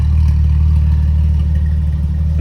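A Porsche Boxster's engine drones steadily and loudly up close while driving, a low continuous rumble with no voices.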